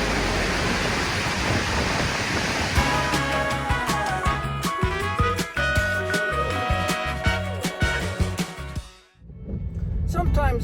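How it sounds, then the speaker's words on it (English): A waterfall at Leopard Dam gives a steady, loud rushing roar for the first few seconds before music takes over and continues to the end. "This is the waterfall and dam that we see today."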